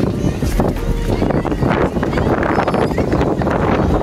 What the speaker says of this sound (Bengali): অনেক ঠান্ডা বাতাস